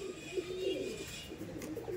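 Madras pigeons coo close by, soft, repeated throaty coos rising and falling over a quiet background.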